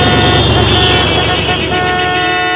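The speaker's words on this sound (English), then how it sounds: "We took off at a snail's pace with Grandpa at the wheel, and everyone was honking at us." Car horns honking at a slow-moving car on the road, a sustained loud blaring tone with layered horns sounding continuously throughout.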